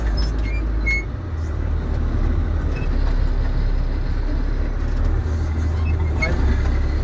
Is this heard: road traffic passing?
yes